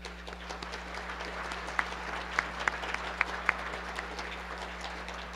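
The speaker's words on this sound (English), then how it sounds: "Please join me in a warm round of applause for all of them." Steady audience applause at a City Club civic forum honouring its sponsors, with a dense, even wash of clapping and a few sharper individual claps standing out, moderately distant and sustained throughout.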